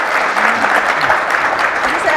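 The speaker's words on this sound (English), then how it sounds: "Just a round of applause for our panel." Conference audience at a general session applauding a panel, a loud continuous wash of clapping lasting a couple of seconds with faint voices mixed in.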